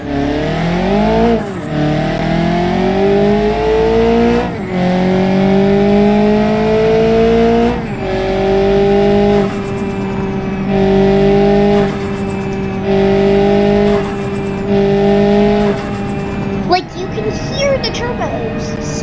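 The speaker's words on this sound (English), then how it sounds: "this car is a little bit slow off the start because of the turbos needing to spool up" Turbocharged car engine in BeamNG.drive revving and accelerating through repeated gear pulls, rising tones climbing and dropping with each shift, loud and close, with a final burst near the end; talk runs over it.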